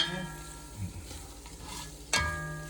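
Onion and garlic frying in butter in a pan while being stirred, a close, steady sizzle broken by scraping stirs and a sharp clatter near the end.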